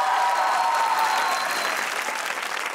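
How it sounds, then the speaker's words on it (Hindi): Studio audience applauding on a comedy talk show set, a steady dense wash of clapping that stays loud throughout and tapers only slightly at the end. "अब तालियां बनती हैं"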